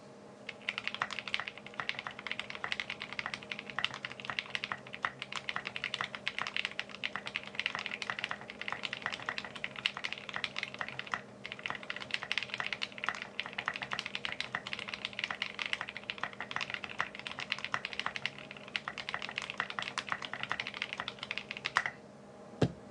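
Steady, fast typing on a GHS.RAR mechanical keyboard with lubed switches and stabilizers: dense, continuous keystroke clatter recorded close up with no talking, ending in a few final taps.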